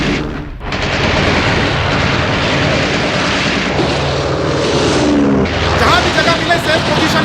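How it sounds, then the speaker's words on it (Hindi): American military aircraft circle low over a train while bombs fall, a dramatized wartime scene: a dense, continuous roar of engines with explosive bursts and gunfire-like crackle throughout, loud and close, with voices mixed in. "अमेरिकी विमान हम पर बम गिरा रहे हैं।"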